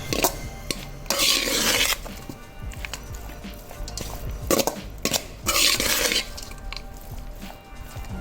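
A spoon scrapes and clinks against a pan while mango rice is stirred, giving repeated scraping strokes in bursts with metallic taps between them over several seconds, with a faint sizzle and no one talking.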